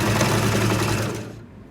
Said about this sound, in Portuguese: vou dar um retrocesso também.